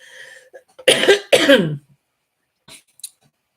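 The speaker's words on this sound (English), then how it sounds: "So hang on a minute, another little cough here." Two sharp, close coughs follow a brief murmur, then fade into silence with a couple of faint clicks.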